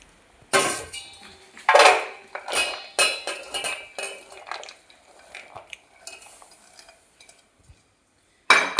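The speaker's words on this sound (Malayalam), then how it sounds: "ഇനി നമുക്ക് ഈ പാത്രത്തിലേക്ക് മാറ്റാം" Chopped raw mangoes for pickle being shifted into a vessel, with loud close clattering of a metal utensil against the pot, irregular bursts of scraping and clinking separated by brief pauses.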